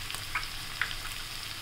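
Green chillies and split urad and moong dal hitting hot oil for buttermilk upma, a steady soft sizzle with a couple of brief louder crackles, close and alone.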